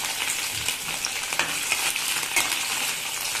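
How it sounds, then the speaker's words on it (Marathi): Bitter gourd pieces frying in hot oil, giving a steady close sizzle with occasional crackles and stirring clinks, no voices. "आता आपण याच्यामध्ये कारले छान फ्राय करून घेऊया"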